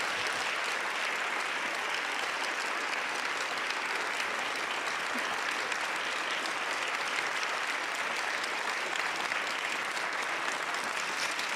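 Audience at a speaking event giving sustained applause, dense even clapping from a large room that holds steady for over ten seconds with no talk over it.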